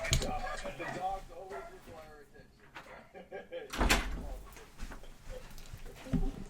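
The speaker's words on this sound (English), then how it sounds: "I'll shut my door." A door is shut at home amid a household with several dogs, giving a single fairly loud thump partway through while a person talks before and after.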